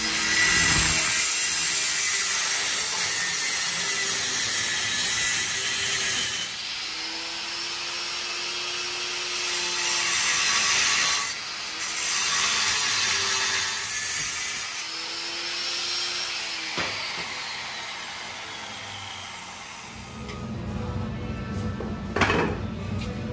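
Power tool cutting through the steel frame crossmember of a 1950 Fargo truck, a loud continuous grinding-saw whine with a few brief pauses and rising and falling passes, heard alone without talk.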